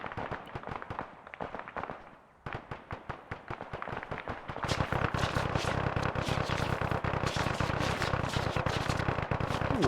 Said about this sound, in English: You heard the bullets over us flying?